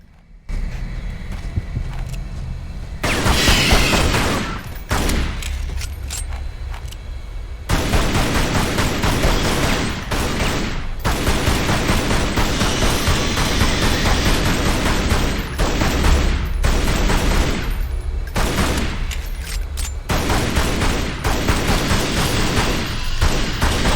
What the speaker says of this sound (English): it seemed like my guns just weren't able to hit it